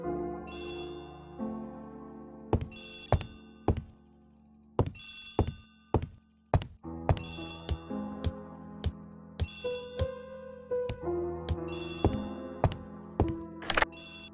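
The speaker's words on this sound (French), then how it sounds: "Poirot, le téléphone." A telephone rings in the Agatha Christie The ABC Murders video game, a bright bell ring repeated in regular bursts over a soft musical background, with several dull knocking thunks scattered between the rings.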